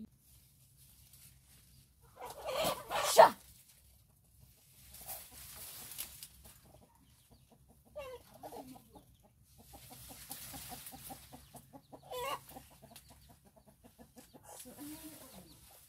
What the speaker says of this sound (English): we've got chicken around